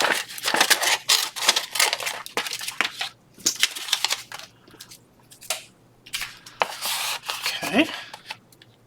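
Scissors gummed with glue snip through paper on a craft pad in a string of quick crisp cuts and rustles, some bursts denser than others, close and fairly loud with brief pauses.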